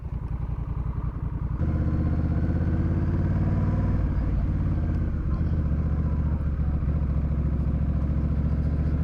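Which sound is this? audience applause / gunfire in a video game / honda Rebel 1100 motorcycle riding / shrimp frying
honda Rebel 1100 motorcycle riding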